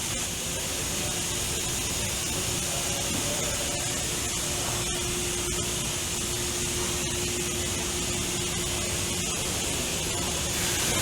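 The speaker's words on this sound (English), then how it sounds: "Here's a view of the machine in operation. It's going approximately 56 bottles a minute." A Chase-Logeman bottle filling machine for hazardous areas running at about 56 bottles a minute, a loud steady hiss and mechanical drone with a constant hum and faint periodic ticks.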